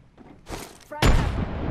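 A frag grenade explodes in the video game Apex Legends: a short burst of noise, then a loud, heavy blast at close range with a lingering rumble.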